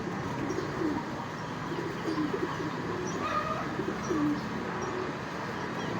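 Young racing pigeons in a loft coo softly and repeatedly over a steady bed of background noise, their low murmuring calls overlapping without pause.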